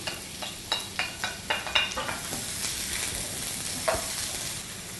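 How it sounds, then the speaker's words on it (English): Onion and sliced garlic hit hot olive oil in a pan for Latin ratatouille, opening with a run of sharp clinks and scrapes before a steady, close sizzle takes over with no talking. "I have some olive oil here in my pan, and to that I'm going to add some onion and some sliced garlic."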